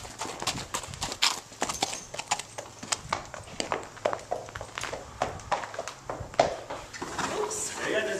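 A horse cantering in a riding lesson, rhythmic hoof thuds and clip-clops close by in repeated three-beat groups, with an instructor's voice coaching over the footfalls.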